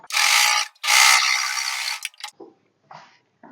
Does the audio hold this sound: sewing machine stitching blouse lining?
yes